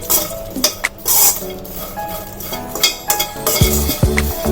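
Butter-coated popcorn being tossed with spices in a metal pot, with close rustling, scraping and clinks of a utensil against the pot in uneven bursts and no voices.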